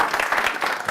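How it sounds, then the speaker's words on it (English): Brief burst of audience applause from a tech talk crowd, dense overlapping hand claps at steady loudness with no voices audible. "Can we have a round of applause for the University of Auckland as well?"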